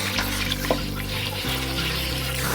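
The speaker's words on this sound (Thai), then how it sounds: "ล้างแป้งออกจากตัวปลาให้หมดนะครับ" Catfish are rinsed under running water to wash off starch while making fermented fish, a steady, loud rush of tap water close by with a faint hum underneath and no talk.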